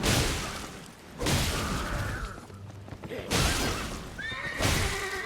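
A horse in Elden Ring neighs loudly several times in bursts of whinnying, with a rougher mechanical clatter between the calls and no one speaking over them.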